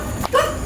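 A dog gives a short yip or bark among several dogs in the area, a single brief close call over background noise.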